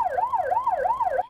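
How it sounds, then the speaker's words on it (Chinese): A police siren wails in a rising and falling cycle, loud and close, sounding continuously through a residential alley during a chase after a drug suspect. "警笛声大作"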